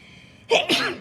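A single sharp sneeze bursts out close by in a quiet room, a quick two-part expulsion of about half a second after near silence.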